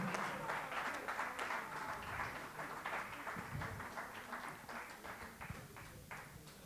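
Crowd at a French university reading-summary contest final applauding a winner, steady dense clapping that carries through the whole stretch, moderately loud and fairly distant, with scattered louder claps near the end.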